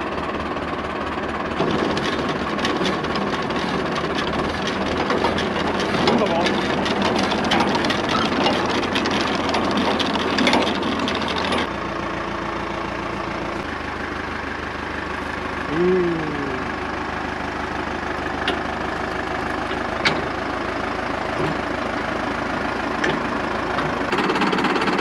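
A vintage Lanz sieve-chain potato digger, a historic barn find, runs empty on a 45 PTO behind a tractor in creeper gear, giving a steady mechanical clatter over a low engine drone that shifts and thins partway through.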